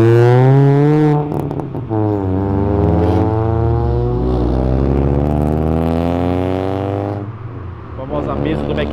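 A car pulls away from a car meet after the driver's foot slips off the clutch, its engine revving up through rising, strained gears, loud and close, while people talk over it.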